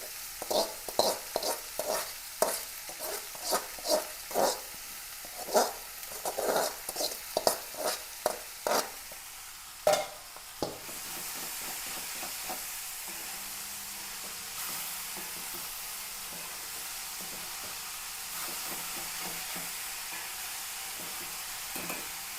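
Banana flower rubbed with salt and coconut oil is stirred into a pan with onion, garlic and green chilli, giving rhythmic spatula scrapes and clinks over a frying sizzle, then a steady close hiss with no stirring.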